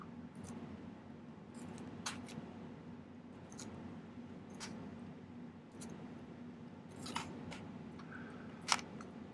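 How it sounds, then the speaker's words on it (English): Fiskars craft shears cutting 18 gauge silver sheet, giving several short, sharp snips spaced irregularly over a quiet room hum, faint overall with a couple of louder cuts near the end. "These are just Fisker's craft shears, and 18 gauge is about as thick as you can cut with them"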